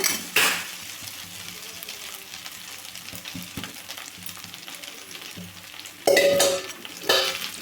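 Dry vermicelli upma with egg is stirred in a pan, giving soft scraping and rustling with a faint sizzle, punctuated by a few louder clanks of the spoon against the pan, close and without talking.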